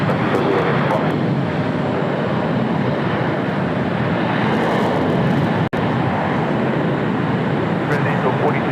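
Airliner landing on runway 25 left at LAX, a broad continuous engine roar holding steady and fairly loud throughout, with a brief sharp click midway.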